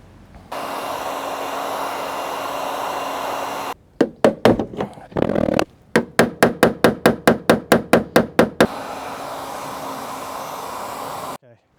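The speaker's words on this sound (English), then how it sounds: "hammer this down here" Metal hammering on a dented panel: a short burst of strikes, then a fast regular run of about a dozen sharp ringing blows, with a steady hum of background machinery before and after.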